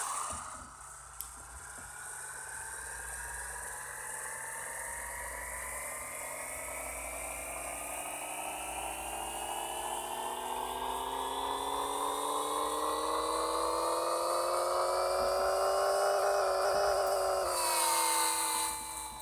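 Game car engine in Pixel Car Racer revving steadily higher through a long dyno pull, a whining synthetic tone climbing for about seventeen seconds before dropping off abruptly.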